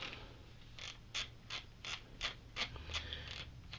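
Loosening the magazine tube nut on a Mossberg 500 shotgun: a series of about nine evenly spaced metallic ratcheting clicks, close and fairly quiet, over a faint low hum.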